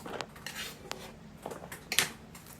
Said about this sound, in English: We now need to cut the potatoes into smaller pieces.